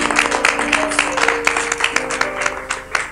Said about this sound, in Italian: mando un applauso e l'applauso di tutti quanti.